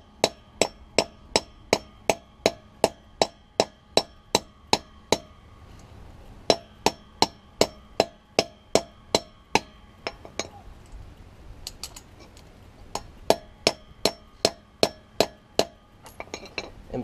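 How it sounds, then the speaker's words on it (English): A hammer strikes a steel wedge anchor set into concrete, delivering bursts of sharp, ringing metallic blows in quick rhythmic runs separated by short pauses, close and clear with no voices. "you gotta put your anchor in, and using the hammer,"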